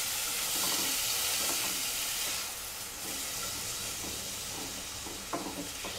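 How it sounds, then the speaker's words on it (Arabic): Finely chopped onion sizzles in butter in a pan, cooking for Algerian pumpkin couscous. A loud, continuous frying hiss runs throughout, with occasional soft stirring knocks and no talk. "راح نقليه في هذيك الزبده"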